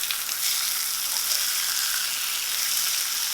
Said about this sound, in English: Listen to those little babies sizzle.